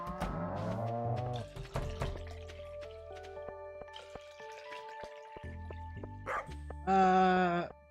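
A dog gives one short, whining bark close by near the end, following sparse clicks and small tapping sounds in an otherwise quiet room.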